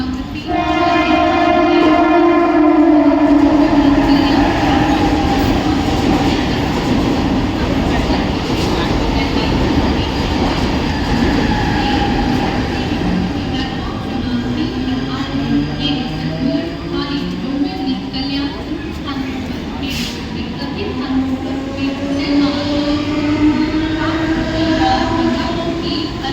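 A Mumbai fast local train bound for Badlapur runs at a station platform, a loud continuous rumble and clatter of carriages with horn-like tonal tones and platform announcements spoken over the noise throughout.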